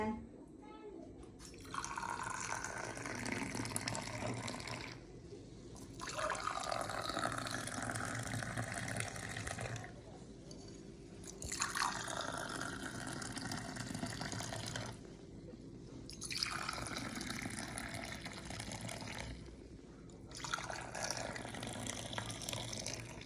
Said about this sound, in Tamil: டீ வந்து ரெடி ஆகிட்டு நாங்கள் வந்து இதில் ஊற்றி வைப்போம்